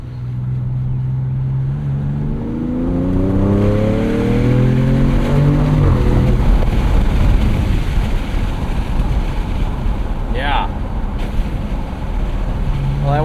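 Twin-turbo inline-6 2026 Dodge Charger Scat Pack sedan with all-wheel drive accelerating hard, its engine note rising through the revs, loud and close with wind noise and a gear change.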